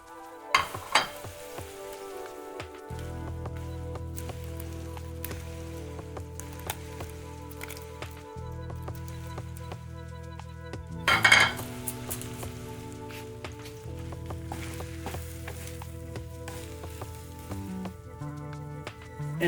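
Mushrooms and onion sizzle steadily in a frying pan, a soft continuous crackle with occasional louder spits and one brief clatter midway, no voices.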